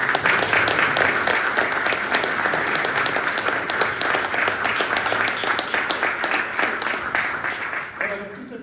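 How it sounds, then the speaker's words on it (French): Sustained applause from a lecture audience fills the room, dense and steady throughout before thinning out near the end. "Ça mérite des applaudissements."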